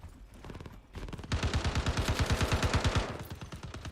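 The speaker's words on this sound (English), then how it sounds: "Right, burst fire it is." Burst-fire gunshots in the shooter game Star Citizen, a rapid string of about twenty evenly spaced shots rattling off at close range, loud and sustained, after a brief quieter lead-in.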